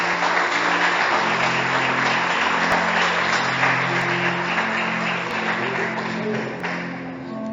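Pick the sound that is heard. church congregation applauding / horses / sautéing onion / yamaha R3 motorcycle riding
church congregation applauding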